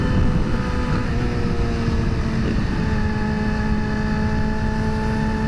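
A Yamaha FZ07 motorcycle ridden fast, its engine holding a steady, loud drone with rising and falling harmonic tones as it passes and pulls away, heard alone without voices.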